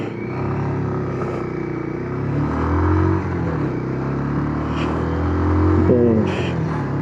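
A 2026 Bajaj Pulsar 180 motorcycle engine hums steadily while being ridden, with a low continuous drone, rising revs around midway and near the end, and some wind and road noise.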